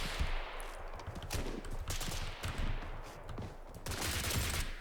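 Sustained automatic fire from an HK417 battle rifle chambered for a full-power cartridge in the shooter game BRM5, rapid cracking bursts running nearly continuously with brief pauses, close and loud, with distant gunfire mixed in.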